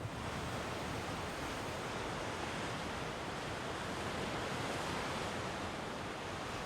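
Pacific Ocean surf at Point Mugu, a state park with rocky bluffs along its shoreline, under overcast skies: a continuous broad wash of breaking waves with some wind rumble, steady and fairly loud, with no voices.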